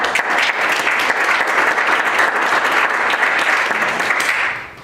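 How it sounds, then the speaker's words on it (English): A debate audience for a state house district race applauds the candidates, a loud, dense burst of clapping from a full room that holds steady before tapering off at the very end. "So I'd like to ask you to give them a round of applause."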